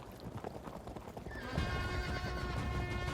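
In the Field of Glory 2 strategy game, horses neigh and hooves clip-clop, with a bright whinny rising over a busy bed of galloping hoofbeats that grows louder midway through.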